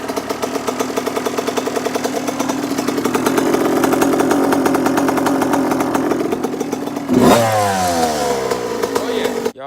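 A Yamaha YZ dirt bike engine runs close and loud with a rapid steady idle, then is sharply revved up and let fall back near the end.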